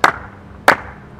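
Two firm thuds of a foot stomping on the floor, spaced about two-thirds of a second apart, close and distinct against near silence.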